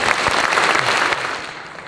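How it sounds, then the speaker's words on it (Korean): A church congregation applauds an elder pastor coming forward at a pastors' ordination service, steady moderately loud clapping from a room full of people that fades slightly toward the end. "한번 박수로 맞으면 좋겠습니다"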